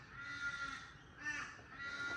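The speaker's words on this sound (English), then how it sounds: "Morning, crows. You are here most definitely." Several crows caw raucously in the early morning outdoors, a harsh, continuous chorus of overlapping calls at moderate distance with no talking.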